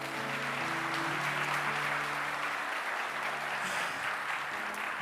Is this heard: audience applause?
yes